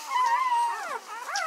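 A young puppy in a litter whimpers and whines, with a long high drawn-out whine followed by shorter wavering cries, close and clear without talk.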